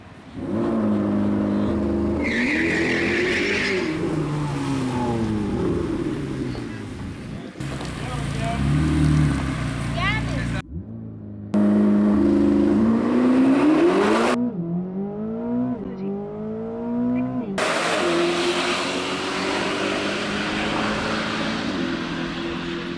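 C8 Corvette ZR1 and Lamborghini Revuelto drag racing, loud engines revving and climbing through repeated gear shifts, with abrupt cuts between runs and rising, sweeping engine tones.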